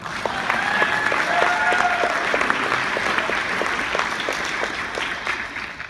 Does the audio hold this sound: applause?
yes